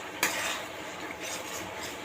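Masala with onion and Kashmiri chili is sautéed and stirred in a pan, giving a steady close sizzle with soft scraping strokes and a brief clink at the start.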